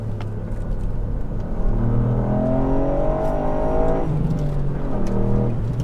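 A Ford Fiesta ST MK8 with a three-cylinder engine pulls hard under acceleration, its loud rising engine note climbing steadily through the revs with no voices over it.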